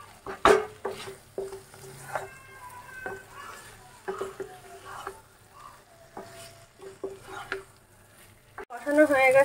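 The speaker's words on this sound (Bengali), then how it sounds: "ভেজে রাখা আলুগুলো এবারে দিয়ে দেবো, দিয়ে ভালো করে কষিয়ে নেবো একদম।" Fried potatoes stirred and cooked in a pan for Kashmiri alur dom, soft sizzling under clinks and scrapes of a utensil against the pan, with someone talking throughout and a louder sizzle at the end.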